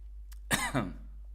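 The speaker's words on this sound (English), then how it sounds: "sorry, a little bit of a cough" A single cough, close and fairly loud, with a short throat-clearing burst after it and no speech.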